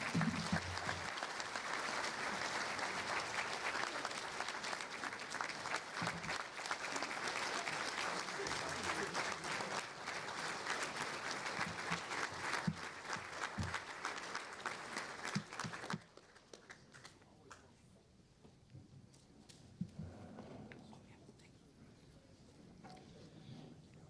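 A luncheon crowd at a joint chamber event gives the governor a long, steady round of applause that runs loud and full for about sixteen seconds, then drops to lighter scattered clapping.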